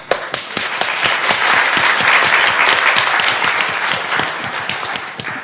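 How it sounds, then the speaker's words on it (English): A lecture audience applauds the speakers, crisp individual claps standing out over a dense, loud, nearby wash of clapping that swells and then slowly thins out. "Let's give a round of applause for people who spoke."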